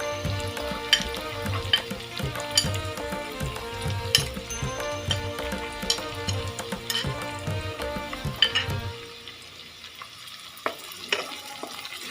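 Chopped garlic sizzles and crackles steadily in a hot pan while being stirred, with clinks of the utensil against the pan, before the frying fades near the end and a few light knocks follow.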